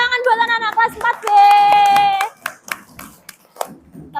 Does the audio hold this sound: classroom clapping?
yes